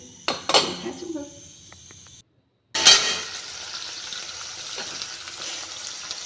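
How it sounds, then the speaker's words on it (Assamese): Small puthi fish fry in a pan with a steady sizzle, broken by clinks of utensils against the pan and a brief cut to silence partway through. "চেপাত লগা মাছকেইজনী ফ্ৰাই কৰি লৈছোঁ।"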